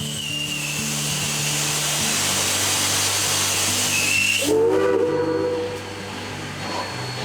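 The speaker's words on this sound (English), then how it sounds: "that's obviously a steam engine" Loud steady hiss of steam from a steam locomotive fills the clip, with a high whistle tone near the start and a sudden burst of venting steam partway through.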